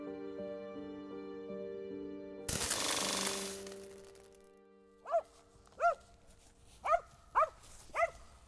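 A dog barks five times in quick succession near the end, close and sharp, after a stretch of tonal background sound and a brief noise burst.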